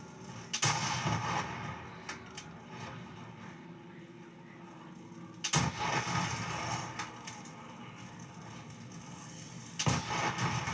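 Deep booming explosions from grenades and heavy weapons in the Call of Duty Black Ops 2 zombies mode video game, three loud blasts spaced several seconds apart over a rumbling, crackling background of game noise.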